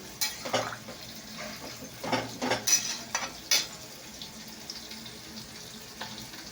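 Water is poured into a cooking pot of pumpkin with ghee and plantain, giving a few close splashing, sizzling bursts of pouring and stirring over a quiet kitchen background, with no talk.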